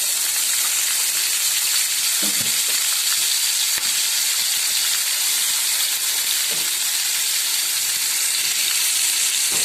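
Mixed vegetables frying in hot oil in a kadai, a steady loud sizzle and hiss filling the whole stretch, with a few brief clinks of stirring and no talking.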